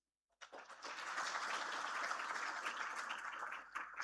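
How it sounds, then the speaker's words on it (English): Audience applause at a university orientation ceremony, a steady wash of many hands clapping that starts abruptly after silence and holds evenly, somewhat distant and soft. "A heartfelt round of applause,"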